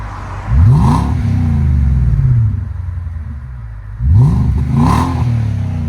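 A 2018 Nissan Armada with a 5.6L V8 and a Flowmaster Super 10 exhaust revs twice, each time a loud, deep, close rise and fall of the engine with a low rumbling idle in between.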